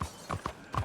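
Horse hooves clip-clop in Red Dead Redemption 2, four close, evenly paced hollow strikes in quick succession, with no talking.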